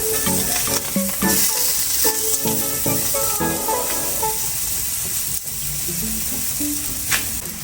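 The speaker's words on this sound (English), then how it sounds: "now I'm going to get my fish spatula and we're going to give it a nice flip so that the other side can also get a sear" Thick salmon searing in a hot pan after being flipped with a fish spatula, a steady close sizzle running throughout with a few brief scrapes and clinks, no talk.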